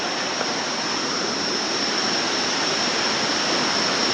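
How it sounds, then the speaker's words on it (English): Dodowa Waterfalls in Ghana roars loud and close, a dense, unbroken rush of falling water that stays steady from start to finish. "this is Dodowa Waterfalls"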